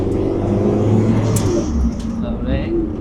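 A 300bhp track car accelerates in third gear, its engine drone steady and fairly loud from inside the cabin, with talk over it.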